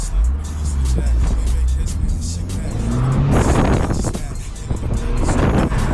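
A 2015 Mini Cooper R59 in sport mode revs hard and accelerates close by, rising in pitch through gear changes, with wind and road noise and voices talking over it.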